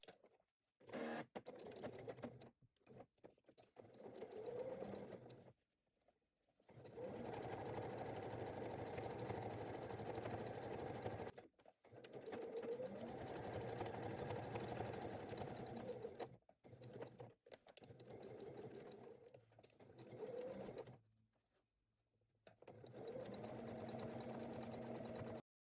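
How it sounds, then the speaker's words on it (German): A sewing machine topstitches close along the edge of a bag flap, running in long steady whirring stretches broken by short pauses, loud and near, with no voices. "Anschließend wird diese Kante knappkantig abgesteppt und von hier hinten einmal rund um die Klappe bis dort."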